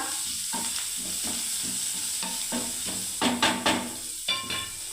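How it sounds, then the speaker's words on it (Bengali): Onion frying in a pan, a steady close sizzle with repeated stirring scrapes and a few louder spoon knocks near the end; no talking. "দেখুন পেঁয়াজটা হয়ে গেল দেওয়া"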